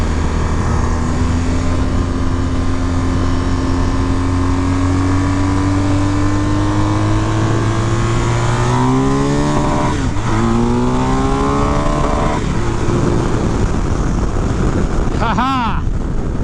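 A 2022 BMW R1250 GSA Adventure Rallye motorcycle accelerates hard on a test ride, its engine note climbing steadily through the gears under heavy wind rush, with a quick shift and a rising rev near the end.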